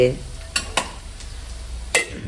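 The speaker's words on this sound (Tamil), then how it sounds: "நான் தக்காளி போட்டுக்கிறேன்" Tomatoes are stirred in a frying pan, with a soft steady sizzle broken by a few sharp utensil scrapes against the pan, close and clear with no voices.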